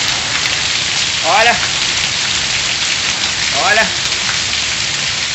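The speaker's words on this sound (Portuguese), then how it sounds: "Mais chuva aqui em Serra Talhada." Heavy rain in the sertão backcountry of Serra Talhada, Pernambuco, pours as a loud, dense, unbroken roar, while a man briefly calls out twice.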